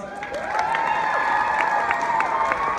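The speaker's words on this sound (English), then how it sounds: "Give him a big round of applause." Audience at a Miraculous Ladybug convention panel at San Diego Comic-Con 2018 applauds and cheers, with steady crowd noise and a few whoops and voices rising above it throughout.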